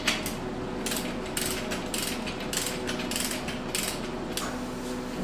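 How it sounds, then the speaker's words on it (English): A torque wrench ratchets in quick, even clicking strokes while tightening main cap bolts on a Ford Bronco stroker 347 engine build, heard close and repeating steadily throughout. "Torquing them down, we are set at 55 foot-pounds."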